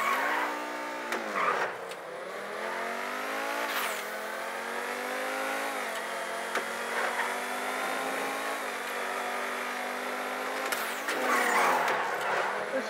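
A 1970 Dodge Charger stock car in GTA 5 racing, its engine droning steadily with rising and falling revs through gear shifts, loud and continuous for the whole stretch with brief bursts of tire noise.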